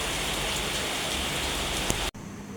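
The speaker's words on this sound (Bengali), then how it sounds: "হঠাৎ বৃষ্টি শুরু হয়ে গেছে।" Sudden heavy rain pouring down onto surfaces, a dense steady hiss close by that cuts off abruptly near the end, leaving only faint background.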